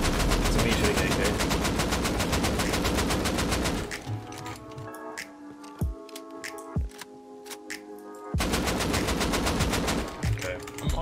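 Rapid automatic AK rifle fire from the video game Rust, loud dense bursts opening and closing the stretch with sparser single shots and quieter gaps in between.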